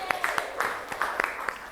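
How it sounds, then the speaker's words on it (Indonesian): A small class of students claps in a classroom, with sparse, uneven individual claps spread across under two seconds, close and modest in volume rather than a full ovation. "Tepuk tangan dulu."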